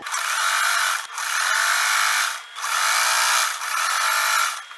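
A sewing machine stitches a side seam on a men's shirt being remade into a girl's skirt, running in four long steady whirring bursts with brief pauses between them, loud and close with no talking.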